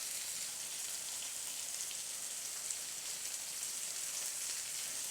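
Tomatoes cooking in an open pan for tomato chutney, an even soft hiss of frying that stays constant and fairly faint, with no other sounds.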